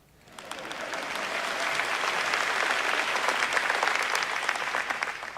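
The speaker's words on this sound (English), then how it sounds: "It's okay to clap." A large audience at an NVIDIA GTC keynote in Taipei breaks into sustained applause, rising quickly after a quiet start and holding as a dense, even wash of many clapping hands.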